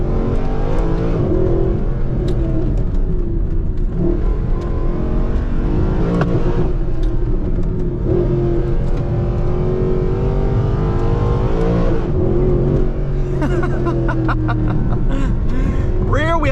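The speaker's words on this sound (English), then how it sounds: "So we'll go ahead and pick up the pace a little bit so you can hear that glorious V8." A Mercedes-AMG GT Black Series, a rear-wheel-drive V8 supercar, accelerates with a continuous, close engine drone that surges and rises toward the end.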